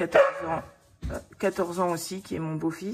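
One of three household dogs gives a short bark or yip near the start, close by, and a person keeps talking over and after it.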